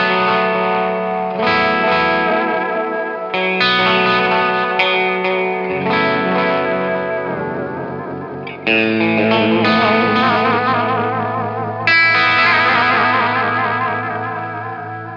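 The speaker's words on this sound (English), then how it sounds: "So if I tweak the depth and speed, you'll really hear that modulation" Electric guitar played through an Eastwood Black Box modulation delay pedal, with sustained chords and single-note phrases swelling and shimmering under wobbling chorus-like modulation and echo trails, loud and close, with no talking.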